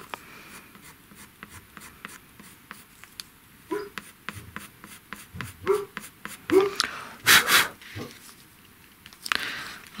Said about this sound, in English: The point won't last long on the drawing pencil, but I'm just going to come in with it anyway